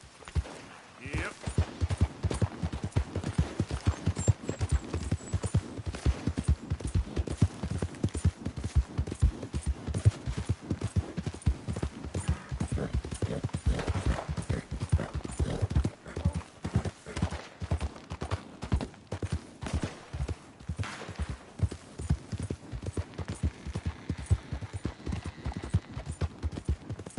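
Horse hooves clip-clop steadily and close at a walking-to-trotting pace in Red Dead Redemption 2, a continuous rhythmic beat running throughout, with a voice speaking over the hoofbeats.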